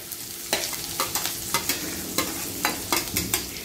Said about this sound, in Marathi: ह्याला 1-2 मिनिटं सॉटे करायचं आणि लगेचच ह्याच्यात मी ही हिरवी मिरची टाकत आहे